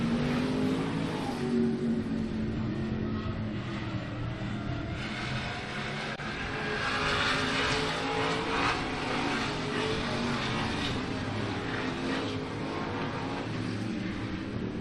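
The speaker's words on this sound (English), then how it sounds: "Trigg sneaks that nose underneath, but cannot get by Spreen down the front straightaway" Race cars roar around an oval track during a main event, their engines blending into a continuous, moderately distant drone that rises and falls slightly as the cars pass down the front straightaway.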